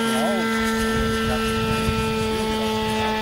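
An RC Phoenix P-51 Mustang warbird model with an ASP 52 engine runs not at full throttle, giving a loud, steady, close buzzing drone with a strong constant tone and slight wavering pitch.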